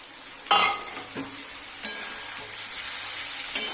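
Ground ginger, cumin and green chilli paste sizzles in a pan with fried pointed gourd and potato for katla fish curry, a steady hiss broken by a few sharp scraping stirs of a spatula, close and clear with no talking.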